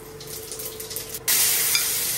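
Bay leaf, dried chili and whole cumin drop into hot oil and erupt in a sudden, loud, steady sizzle that carries on evenly after a quieter start.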